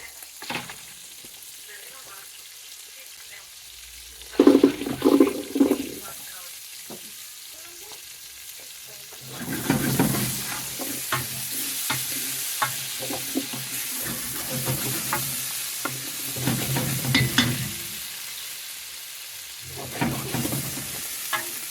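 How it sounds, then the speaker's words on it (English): Onions sizzling and frying in a pot for a pork stew, a steady crackling hiss that swells when stirred, with occasional clanks of a utensil. "I'm gonna let it sizzle here for another 10-15 minutes"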